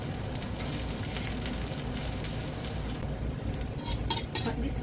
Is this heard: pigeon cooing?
no